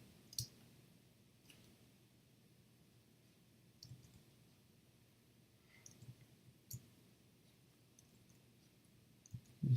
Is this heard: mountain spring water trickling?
no